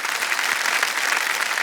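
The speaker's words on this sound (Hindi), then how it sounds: "जोरदार तालियां एक बार फिर बनिए उनके लिए।" Loud studio audience applause on the KBC game show set, a dense and steady roar of many hands clapping together that holds at an even level throughout, with no talking over it.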